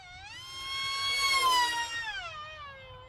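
A small RC plane with a three-blade 6x4.5 HQ propeller flies past as a bright, high, pitched whine that climbs, peaks loudly and then drops and fades. The pass lasts about three seconds and has no talking.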